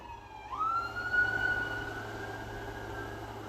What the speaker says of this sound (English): We gotta let these sirens pass by.